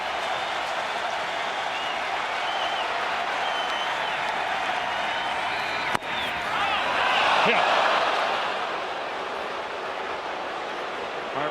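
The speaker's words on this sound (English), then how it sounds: "And this is a relentless crowd." Large crowd at a Miami Marlins versus Philadelphia Phillies 2023 Wild Card baseball game roars in a constant dense wash, swelling briefly louder midway, with a commentator talking over it.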